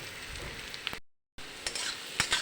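Chopped potato frying in oil with onion, garlic and green chilli, a low crackling sizzle with a few stirring clicks, quiet and interrupted by a brief gap of silence.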